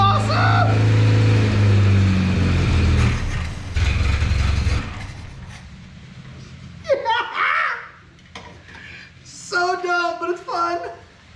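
A two-stroke engine running on a 50-to-1 fuel mix inside a garage drones loudly at first, then fades and stops, after which voices, including a child's, take over.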